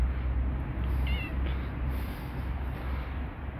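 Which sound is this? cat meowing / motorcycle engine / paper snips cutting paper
cat meowing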